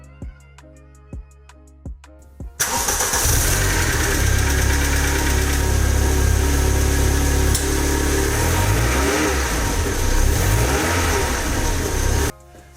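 A VW Golf 3 GTI 16V engine cranks with a few starter clicks, fires up loudly and settles into a strong, close idle that swells with revving for about ten seconds before cutting off.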